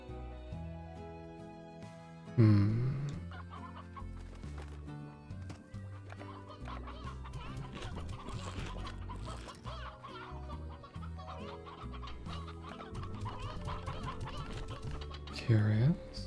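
Chickens cluck in the video game Slime Rancher, short clucking bursts near the start and end of the clip over steady, tonal game music.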